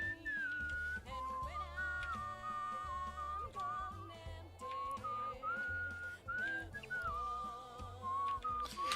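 Steady melodic whistling from the video game Where The Water Tastes Like Wine, a wavering tune of sliding and held notes carried over a rhythmic music bed, close and clear, with no voices.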